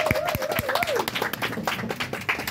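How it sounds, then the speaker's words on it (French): Audience applause at a radio trophy presentation, scattered claps with a few sharp individual hits, mixed with voices and a brief melodic sound at the start. "Est-ce que nous pouvons applaudir, s'il vous plaît? Ça mérite des applaudissements quand même."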